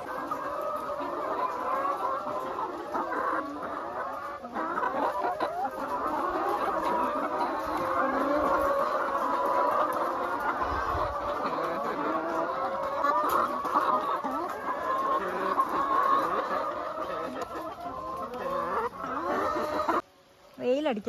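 A flock of chickens clucks and murmurs continuously close by in a yard, with scattered louder squawks and people talking over and around them throughout.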